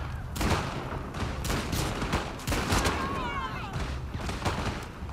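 Rapid bursts of gunfire in The Last of Us Part II, loud and close, with several shots in quick succession over a dense game soundscape, and a person talking under and between them.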